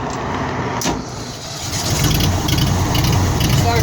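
The engine of a carpet cleaning machine is started with the choke pulled out. It turns over and catches midway, then settles into a louder, steady running rumble.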